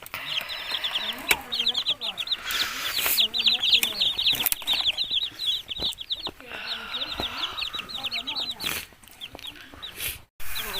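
Hen and chicks in a farmyard, clucking and peeping steadily throughout, with a sick mother hen among them; brief wing flaps and occasional louder squawks stand out over the constant chatter, with faint background noise.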